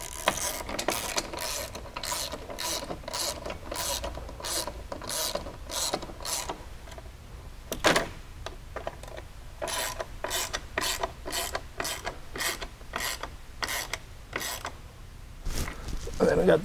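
Ratcheting wrench clicks while Torx bolts come off the floor boards of a 2019 Polaris Ranger 1000 Crew, a steady run of sharp close clicks with short pauses and light metallic rubbing.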